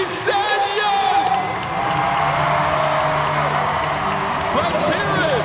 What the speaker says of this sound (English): They're booing. They're cheering.